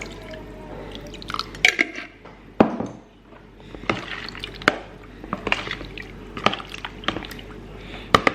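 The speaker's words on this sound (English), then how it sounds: "And I'm gonna add some pickle juice." Pickle juice poured into a milk marinade in a home kitchen, heard as close, irregular splashes and drips in short bursts with small gaps, loud against a quiet room.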